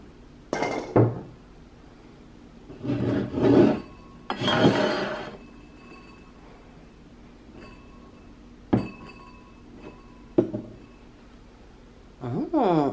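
Glass liquor bottles are lifted off a holiday bar cart, giving several clinks, knocks and thunks at irregular intervals. There is quiet room tone between them and a brief scrape near the end.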